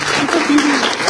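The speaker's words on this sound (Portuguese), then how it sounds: "Vamos aplaudir o Senhor com força." A church congregation applauding during worship, loud close clapping blended with voices calling out over it.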